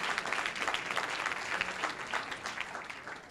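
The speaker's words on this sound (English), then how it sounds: "Give yourselves a round of applause" Convention audience in Atlantic City breaks into sustained applause, a dense, steady wash of many hands clapping with no voices over it.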